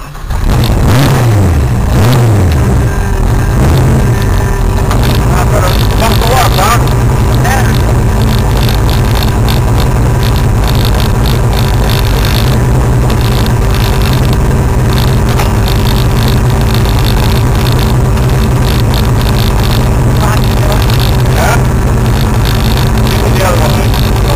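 A street machine car engine is started and left running, its low steady rumble and idle with some revving held loud and near for the whole stretch, with bits of talk over it.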